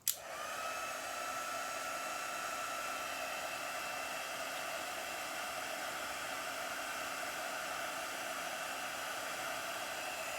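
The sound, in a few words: heat tool melting embossing powder on a card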